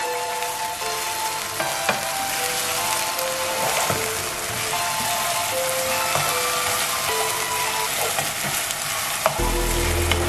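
Chillies fry and sizzle in oil in a pan while being stirred, giving a constant close crackle with occasional scraping strokes and a brief thud near the end.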